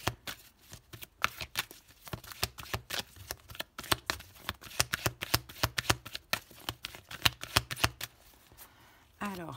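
Oracle cards are shuffled close up in a quick, irregular series of crisp riffling slaps and flicks, with a soft voice speaking quietly underneath.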